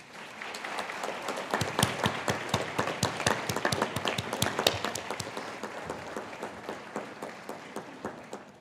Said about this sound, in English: I now invite you to thank your friends and family with a huge round of applause in return.